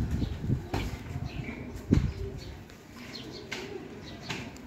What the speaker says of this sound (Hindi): ये फीमेल का शौक करें, चीनी कबूतरी है